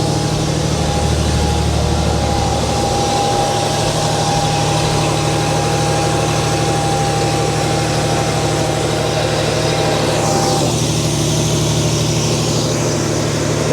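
Car engine idling outside with exhaust running, a steady loud low hum with a constant tone and slight shifts in pitch, no talking.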